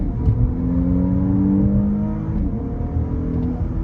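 An Audi SQ5 SUV pulls hard in second gear, its engine note rising in a loud, steady, close-up roar with no talking over it.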